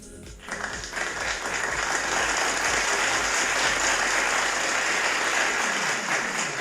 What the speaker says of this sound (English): Let me clap it up for myself, man.